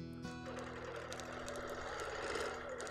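A sewing machine runs steadily through free-motion quilting on a Lori Holt sampler quilt, a quiet, continuous mechanical whir with a fast stitching patter that carries through the whole stretch.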